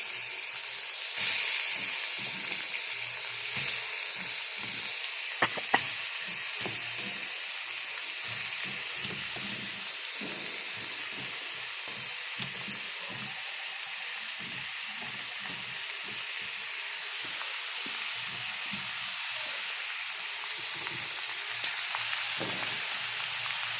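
Cucumber pieces sizzle and fry in hot oil tempered with whole cumin, bay leaf and dried red chilli, a steady close hiss with faint stirring clicks running evenly throughout.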